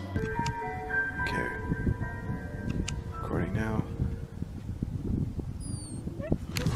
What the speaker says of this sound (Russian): и откуда-то из темноты, окружающей Яна, доносятся звуки собачьего скуления.